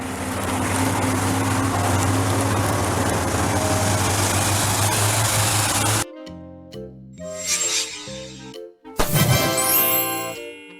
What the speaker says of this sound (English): Wildland fire engine, a specialized fire engine for fighting forest fires.